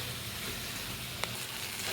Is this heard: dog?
no